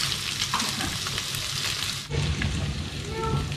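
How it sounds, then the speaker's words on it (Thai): Oil sizzles steadily in a pan over low heat, a dense, continuous frying hiss with faint stirring scrapes, close and even throughout with no talk. "ต้องเจียไฟอ่อนนะคะ"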